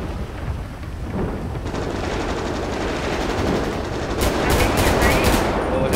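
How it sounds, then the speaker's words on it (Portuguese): Gunfire in GTA 5, with dense, continuous rattling bursts like automatic weapons fire, a rough roar that grows louder and sharper toward the end, with no clear talk. "tô vendo ele tá atirando aí, cuidado"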